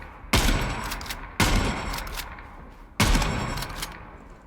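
Three loud, booming shotgun blasts from the video game Gunsmith Simulator, each with a sharp attack and a decaying tail, spaced about a second or more apart.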